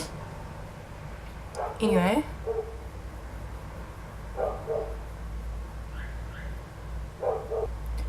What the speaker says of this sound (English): I'm sick and tired of these dogs. All they do is bark.